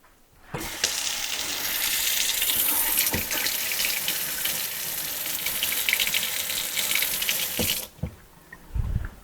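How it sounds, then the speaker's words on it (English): A Moen kitchen faucet is turned back on after a cartridge replacement, water gushing steadily into the sink for about seven seconds before shutting off, close and loud. "now I'm going to go ahead and turn the water back on"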